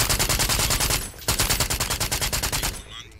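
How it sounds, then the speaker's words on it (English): Rapid bursts of suppressed gunfire from a weapon in the video game BRINK, two loud continuous strings of fast, evenly spaced shots broken by a brief pause and then tailing off. "Every weapon has a different silent sound."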